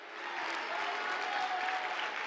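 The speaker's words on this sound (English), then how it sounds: "Give Jesus the greatest hand clap that you've ever given anybody." A church congregation applauds at a gospel gathering, a dense, steady wash of hand clapping that swells quickly and holds, heard from within the crowd.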